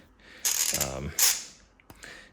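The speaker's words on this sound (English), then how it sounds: "this is the largest ratchet and wrench I have, I believe, in this configuration offset spline" A large Platinum Tech 27 by 30 offset spline ratchet wrench worked by hand, a quick burst of close metallic ratcheting clicks between short scraping handling noises, fairly quiet overall.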